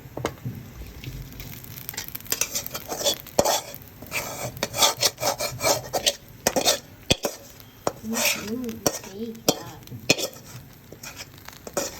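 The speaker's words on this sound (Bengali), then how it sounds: "চিকেনের পোলাও একসাথে ভালোভাবে কষিয়ে নিচ্ছে" Chicken and pulao rice are stirred and fried in a metal pot, giving repeated scraping and rubbing of a utensil against the pot in uneven bursts, close and fairly loud.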